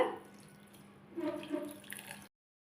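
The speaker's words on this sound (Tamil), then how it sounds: "வெள்ளம் எடுத்து அதே டம்ளரில் ஒரு கால் டம்ளர் தண்ணி சேர்த்திக்கலாங்க" A quarter tumbler of water is poured over jaggery in a steel tumbler, a short soft splash and trickle lasting about two seconds, close and quiet before cutting off to silence.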